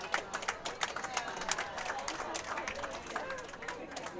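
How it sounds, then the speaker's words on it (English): Spectators at a curling draw of a women's provincial tournament clap in a scattered, steady patter, moderately near, with faint arena murmur beneath. "lot of clapping going on up here"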